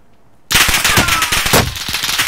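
Sudden loud burst of rapid automatic gunfire in a shooting video game, bursting in from silence and rattling on for close to two seconds with sharp repeated cracks.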